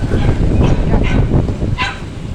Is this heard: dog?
yes